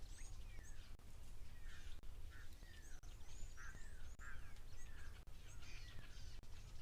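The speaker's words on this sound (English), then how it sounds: "I can hear a pearl-spotted owl calling in the background" A pearl-spotted owl at a waterhole gives a series of rising whistled notes, faint and distant over a steady background hiss.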